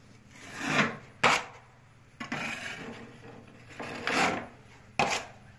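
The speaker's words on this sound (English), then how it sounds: "it's good practice to always sand your sheetrock repair areas" A sheetrock repair patch on an interior wall is sanded by hand in several long rubbing strokes, close and gritty, each swelling and fading, with a few sharp knocks between passes.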